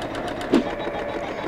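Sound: embroidery machine sewing a zigzag satin stitch

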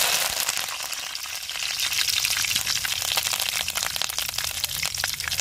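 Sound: curry leaves frying in hot oil

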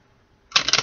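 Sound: tarot cards being shuffled

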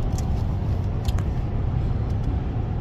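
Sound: car driving on the way to SoFi Stadium

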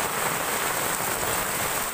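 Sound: rain falling during Typhoon Quinta

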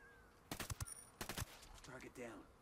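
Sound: sync shot gunfire in Ghost Recon Wildlands video game

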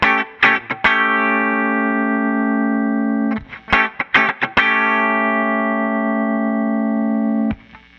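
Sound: electric guitar through an aggressively set Line 6 Helix Deluxe Comp compressor

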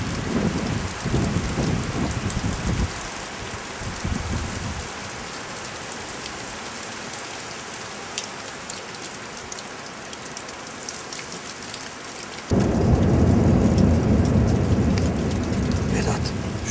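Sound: hail falling after rain

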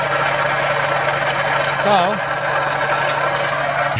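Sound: Geo Metro engine running after sitting for years

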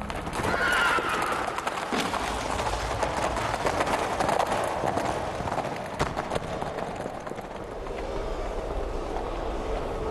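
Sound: horse galloping and neighing

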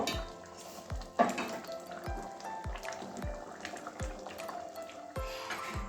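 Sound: stirring mung dal with spinach and papaya in a hot pan

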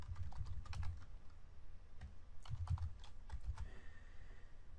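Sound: typing code on a computer keyboard

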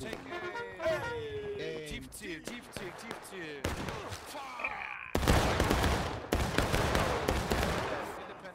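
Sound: musket volley gunfire in War of Rights, video game

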